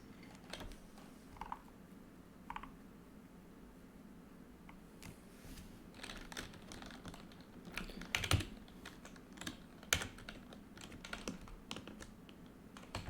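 Keys clack on a computer keyboard as shortcuts are typed during a C# programming lesson, with scattered taps at first and then busier, sharper clusters of keystrokes, close and fairly quiet over a low hum.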